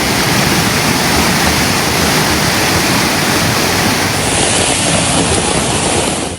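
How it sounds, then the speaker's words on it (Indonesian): Floodwater of the swollen Bedadung river in Jember, East Java, rushes in a loud, unbroken roar, a dense torrent with no pauses and no voices. "Arus banjir ini merusak jembatan Patemon di Pakusari."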